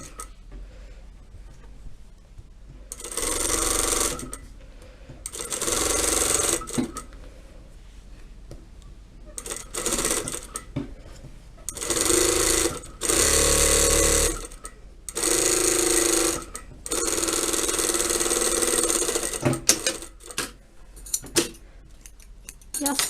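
A household sewing machine stitches along the edge of a homemade pillow. Close, loud mechanical whirring comes in several runs of a few seconds each, separated by quieter pauses with faint handling noises.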